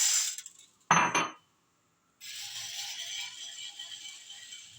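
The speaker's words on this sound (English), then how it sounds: "I use a egg whisk to turn the coffee because it's most effective to turn the beans properly." Coffee beans tumbling in a preheated pan as an egg whisk turns them, giving a metallic rattling scrape. A sharp burst is followed by a brief pause, then steady rattling continues close by.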